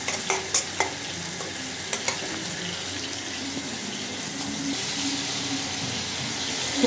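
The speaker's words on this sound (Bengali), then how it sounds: "তো মাছটা প্রায় ভাজা শেষ" Rohu fish frying in a pan, a steady sizzle with a few sharp clinks of a utensil near the start, close and continuous with no talk.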